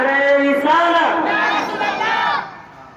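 A large crowd at a religious gathering roars a slogan back in unison, a loud sustained chorus of many voices that swells and then fades away.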